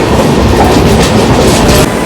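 Loud, close rumble and rhythmic clickety-clack of a moving passenger train on the Kalyan to Surat line, a Daund–Indore superfast express crossing another train, continuous throughout with no voices.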